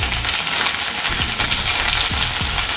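Garlic and chopped onion frying in a pan for pandumirchi fried rice, a steady close sizzle and crackle throughout with faint stirring scrapes underneath, no voices.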